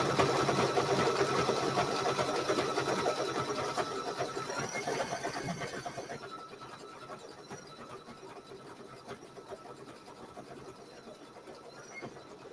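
An embroidery sewing machine stitches a blanket stitch on a small quilt, a dense, continuous mechanical whir that is louder at first and then settles into a quieter, steady hum.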